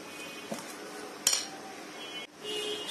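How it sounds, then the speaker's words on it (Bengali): Soft snack batter with sugar added is mixed in a bowl, producing a few scattered clinks and one sharp knock of utensil against the dish over a low, faint background. "আবার একটু মিশিয়ে নিচ্ছি।"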